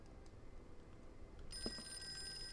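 A telephone rings in the Call of Cthulhu video game, set on Darkwater Island, with a faint bell tone starting partway through and holding steady over low background ambience, with no talking.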